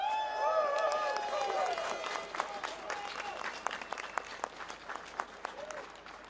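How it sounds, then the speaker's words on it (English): An outdoor crowd at a farmers' protest in central London with tractors breaks into applause and scattered cheers, starting under a tonal whine and swelling into steady clapping with a few sharp nearby claps. "please give yourself a big round of applause"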